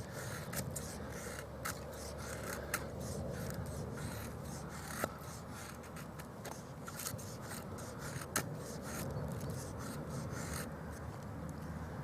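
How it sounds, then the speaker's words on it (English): A bushcraft knife with a full flat grind shaves feather sticks from wood, giving quiet continuous rasping and scraping strokes with occasional sharper clicks. "But just rolling through that cut, the blade, you can get some very, very good feather sticks."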